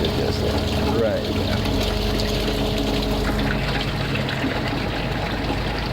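Water from an aquaponic fish tank runs down into a 5-gallon bucket fitted with a screen, a steady close trickling and pouring over a constant pump-like hum, with a voice talking over it.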